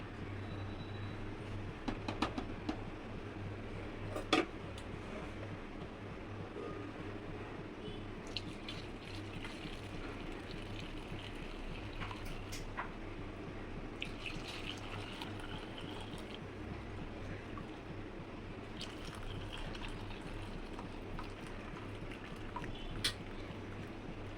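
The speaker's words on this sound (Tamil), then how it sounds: "இப்போ இந்த பாலை நம்ம ஒரு ஸ்ட்ரெயினர் வச்சு ஒரு துணி ஒன்று போட்டு வடிகட்டிக்கலாம்" Curdled milk whey for rasagulla draining through a cloth-lined strainer, a continuous soft trickle and splash of liquid with a few brief clinks, steady throughout.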